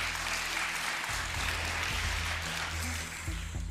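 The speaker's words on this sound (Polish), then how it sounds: "Te brawa, które słyszysz" Steady audience applause fills the space, a dense wash of clapping throughout with a low musical hum underneath.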